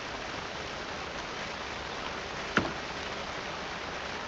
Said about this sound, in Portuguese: Olha que legal a chuva na câmera